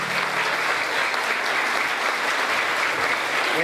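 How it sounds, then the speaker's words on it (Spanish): Children in a school assembly clap together in a steady, even burst of applause that holds at constant strength throughout, with no voices rising above it. "Vengan esos aplausos, queridos niños"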